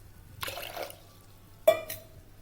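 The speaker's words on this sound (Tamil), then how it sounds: "இதில் 1 கப் தண்ணி ஊற்றி" Water poured from a cup into a cooking pot holding washed banana stem and lentils for sambar, in two short splashing bursts with a quiet pause between, close by.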